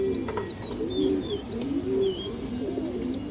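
Pigeons coo in steady, rolling low calls that repeat close by, while thin higher chirps from other birds sound faintly over the top.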